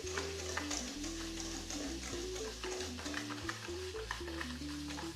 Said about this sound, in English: Then whisk in the butter until well combined.